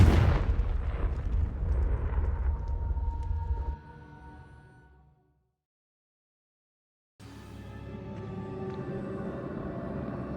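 Spell blasts in Hogwarts Legacy, a loud roaring burst that rumbles and fades over several seconds into silence, then a fresh sustained rushing surge of magic.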